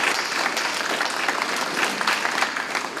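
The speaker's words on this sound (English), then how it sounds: "So please applaud the faculty staff for that." An audience at an alumni breakfast applauds faculty and staff, a dense, steady round of clapping from a roomful of people, fairly loud and close, lasting the full three seconds.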